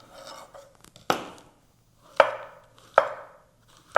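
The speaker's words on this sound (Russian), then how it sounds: "Удаляем и нарезаем на полукольца." A knife slicing mushrooms into half rings on a cutting board, four sharp, distinct chops spaced about a second apart with soft scraping in between.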